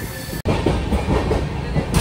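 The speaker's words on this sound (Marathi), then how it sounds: "ट्रेनमधून ट्रॅव्हल करत असल्यामुळे जास्त आवाज येत असतो ट्रेनचा" Train carriage interior on an overnight journey in Gujarat: a steady, loud rumble of rolling wheels with faint clickety-clack, broken by a brief dropout near the start and continuing unbroken, with no voices.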